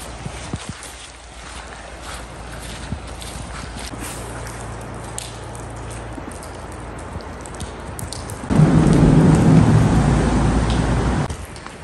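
Rain falling heard from under a bridge, a steady broadband hiss that swells much louder and fuller near the end, with no talk.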